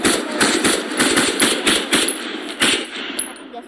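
Rapid automatic weapon fire in a video game map, a loud, close, continuous string of shots with a regular stuttering rhythm that thins out toward the end.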